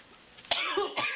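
A single person coughs sharply, then gives two more rougher coughs close to the mic indoors beside an open window, with faint background hiss between them.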